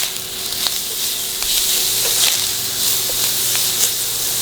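Italian sausage browning in a hot pan, a close, continuous crackling sizzle with spitting bursts and a few soft stirring scrapes.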